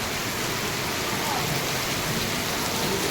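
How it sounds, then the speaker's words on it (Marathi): Heavy, steady downpour in Kashi drumming on surfaces in a dense, continuous roar, close and loud without a break. "पाऊस काही कमी व्हायचं नाव घेत नाही,"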